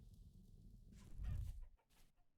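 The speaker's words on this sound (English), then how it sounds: "Oh, hey, look, a chicken." A chicken in the survival game Vintage Story clucks a few times at moderate volume, with the sounds bunched near the middle of the moment before it fades into quiet.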